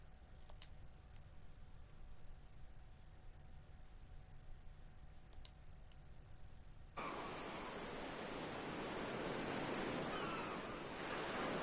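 Ocean waves in Final Fantasy X begin as a faint, quiet background and then swell abruptly into loud, continuous surf that washes on steadily to the end, with no voices.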